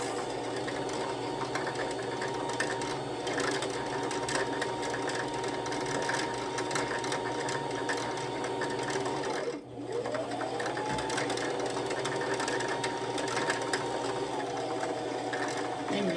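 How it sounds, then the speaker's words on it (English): A sewing machine motor whirs steadily at high speed while winding a bobbin, briefly stopping midway before spinning back up and running on continuously. "you can continue threading your bobbin, and you are gonna do this until it gets really, really stiff"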